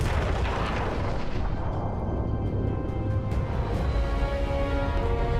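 Gunfire and heavy booms from the Starfield video game reveal trailer, a dense, continuous barrage of loud low-end blasts with no gaps.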